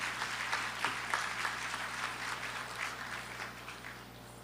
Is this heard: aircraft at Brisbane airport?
no